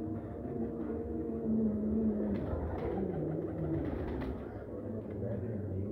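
Old Kasuri-type pigeons coo in low, soft, rolling calls beneath someone talking close by.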